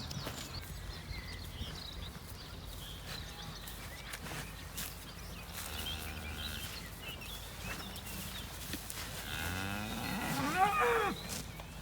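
A few cows in a small paddock on a farm low out a couple of times, one faint moo midway and a louder, closer one near the end, over steady outdoor background noise.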